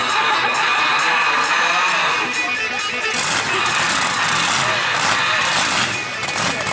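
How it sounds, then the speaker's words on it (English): A crowd at an outdoor monster truck show cheering and whooping, a loud, dense roar of many voices with shouts rising and falling, an engine rumbling faintly beneath. "maybe listening for some crowd applause there."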